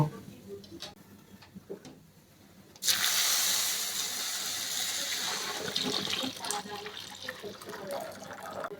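Ghee-fried pitha sizzles in a pan, then previously boiled milk is poured in all at once, giving a sudden loud hiss and bubbling splash that goes on steadily. The pan is quiet with faint ticks before the pour.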